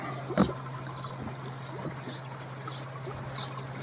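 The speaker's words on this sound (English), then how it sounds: "Water coming back up." Water trickles and flows back into a DIY koi pond filter after plumbing work, a quiet, steady dribbling stream with one brief louder splash early on.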